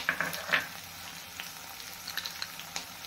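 Hulled urad dal and curry leaves fry in oil, a soft close sizzle with a few brief spitting bursts near the start and scattered small crackles, fairly quiet and without speech.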